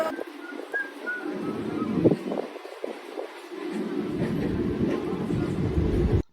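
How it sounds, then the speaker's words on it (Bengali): A train rumbles and clatters as it leaves Bardhaman station, its steady noise growing heavier as it pulls away, with wheels clicking over the rails. "এখন বর্ধমান স্টেশন ছেড়ে বেরিয়ে যাচ্ছে"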